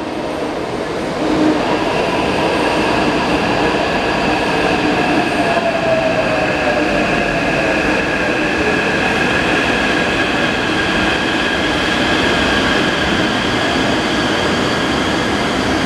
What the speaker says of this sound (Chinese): 月台应该是早上加班车往北投的即将到站